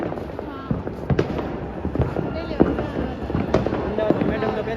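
Firecrackers burst in repeated sharp cracks during a Makar Sankranti celebration in Ahmedabad, some near and some farther off, over steady crowd noise with people talking throughout.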